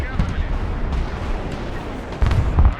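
Artillery fire in the Broken Arrow war game, a dense rumbling wash of distant blasts with heavier low booms near the end, set under steady battle noise.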